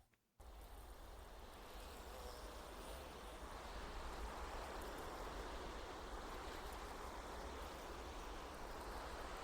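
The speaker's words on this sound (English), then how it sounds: "So you can hear that ambient sound of the rain behind me." Ambient rain plays in Minecraft Bedrock with a Biomes + Realism add-on. After a brief silent start it becomes a soft, steady, hissing patter that grows slightly fuller but stays quiet throughout.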